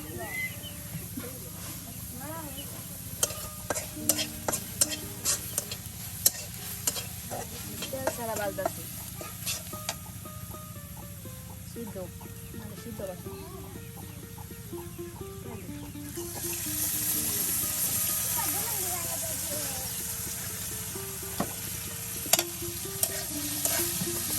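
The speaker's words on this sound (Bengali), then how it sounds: "এই যে দেখুন সুন্দর করে পেঁয়াজ মরিচ একসাথে তেলের সাথে ভেজে নেওয়া হলো" Onion and chili frying in oil with a steady sizzle, stirred by intermittent scraping and clinking of a spoon against the pan, during a village-style Ramadan iftar of beef cooked with bottle gourd; the sizzle swells louder toward the end.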